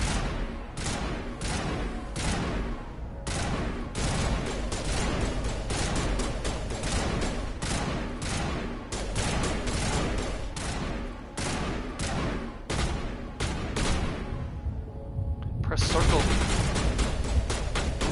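Mass Effect Legendary Edition combat brings rapid, loud gunfire in long automatic volleys with short pauses, close and continuous, with a brief burst of heavier fire near the end and voices mixed in.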